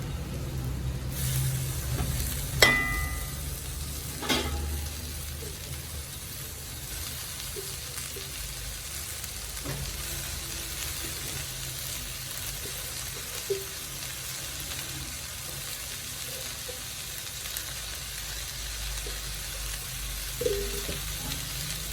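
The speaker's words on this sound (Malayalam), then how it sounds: "നന്നായിട്ട് ഇളക്കി കൊടുക്കാം" Greens (keera) sauté in a pan with a low, steady sizzle, a couple of sharp utensil clanks early on and faint scrapes of stirring later.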